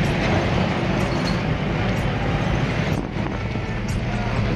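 Train noise at Mathura railway station in India, a steady loud broadband rumble filling the whole stretch with a brief dip near the end, no talking.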